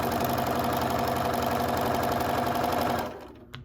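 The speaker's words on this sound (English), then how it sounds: "I'm going to start sewing this down" A sewing machine top-stitches a fabric postcard with a loud, steady, close mechanical whir that stops abruptly near the end, leaving a faint click.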